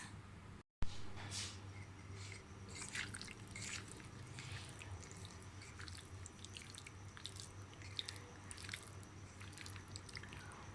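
Chicken being mixed by hand with a marinade of spices, oil, ginger garlic paste and lemon juice gives soft, wet squishing and dripping sounds over a steady low background hum, with no talking.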